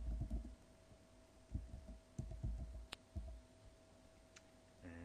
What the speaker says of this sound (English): I simply click in here and type in